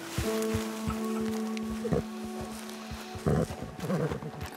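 Horse in a cowboy video game, its hooves clip-clopping in a steady rhythm with occasional snorts and a brief whinny, close and moderately loud over a faint outdoor rustle.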